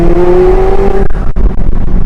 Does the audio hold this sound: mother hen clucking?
no